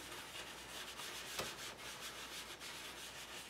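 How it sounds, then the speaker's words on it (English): Soft, steady rubbing as watercolor color is lightly rubbed onto a card, a faint continuous scratchy friction with one small tap near the middle and no talking. "just very lightly rub the color on"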